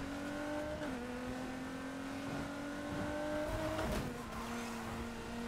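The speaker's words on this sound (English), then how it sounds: "On the other hand, I'm gonna speed up." A race car in Need for Speed Heat accelerates steadily, its engine whine holding a rising tone, with a brief shift near the middle, alone with no voices.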